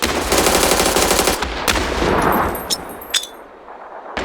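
Gunfire in the PUBG video game: a loud, rapid automatic burst is followed by a few sharp single shots as the fire tapers off. No voices are heard.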